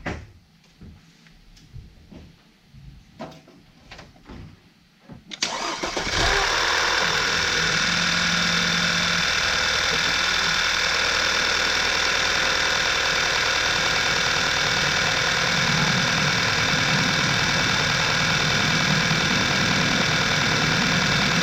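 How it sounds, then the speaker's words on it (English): A few quiet clicks and rustles, then an Audi/VW 2.0T TFSI car engine cranks and catches after a timing chain replacement, settling into a loud, steady idle that runs on evenly. "now start the car up and check how it runs."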